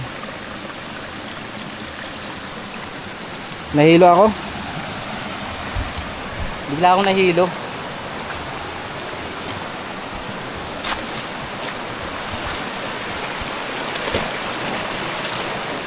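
Steady broadband rush of a strong forest stream flowing near a waterfall fills the whole clip, the current running nonstop, with a few brief spoken phrases breaking in near the start.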